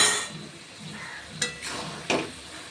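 Bankura-style cabbage jhal curry with fresh coriander being gently stirred in a pan, a soft sizzle under a spoon that strikes the pan twice with sharp clinks.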